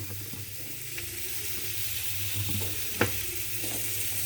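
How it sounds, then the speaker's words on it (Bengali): Curry fries and sizzles in a pan as a little water is added, a steady broadband hiss with occasional clinks of stirring, no voices. "তো বন্ধুরা দেখো আমি এই একটু অল্প জল দিয়ে তরকারিটা কষছি"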